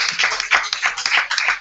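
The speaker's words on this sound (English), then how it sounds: "Let's give him a round of applause." Audience applause from a live campaign launch event, a short burst of close, dense hand clapping that rises and falls in uneven waves.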